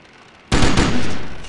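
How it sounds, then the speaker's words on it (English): Loud, close gunfire in the military shooter Delta Force: Land Warrior bursts in abruptly after a brief quiet start and keeps roaring as a sustained volley of rapid shots. "Shots."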